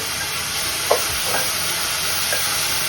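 Chopped onions sautéing with a pinch of salt in a pan, a faint steady sizzle with a few soft utensil taps and stirs, no voices.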